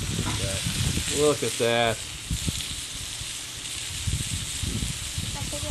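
Food frying on the cast iron side of an Ofyr grill over a cooler part of the fire, a steady soft sizzle running throughout beneath brief talk and a few crackles.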